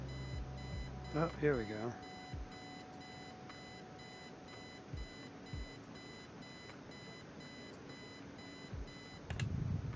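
An alarm clock rings in the adventure game Kathy Rain, a short patterned electronic beeping near the start before it stops. A voice speaks briefly over a steady hum of background noise.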